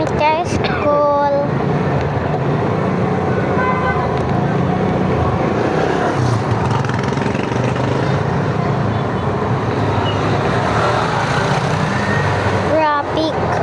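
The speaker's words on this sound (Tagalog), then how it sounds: "Traffic." Road traffic on a busy street during the morning drive to school, a steady wash of engines and tire noise with horn toots near the start and end, people talking inside the vehicle.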